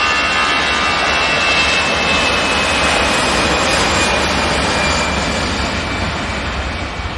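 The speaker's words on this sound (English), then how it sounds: "That's the A320 for EasyJet going off to Gibraltar." An EasyJet Airbus A320 bound for Gibraltar roars loudly and steadily through its takeoff run, jet engines near and powerful with a high whine over a broad rumble, no voices present.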